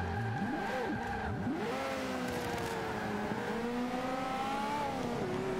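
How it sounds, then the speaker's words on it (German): A Porsche drifts in the Forza 5 racing game, its engine revving up and down in sweeping pitch changes with tire squeal and skidding, loud and continuous with no talk. "also der Porsche ist ganz schön am Driften hier"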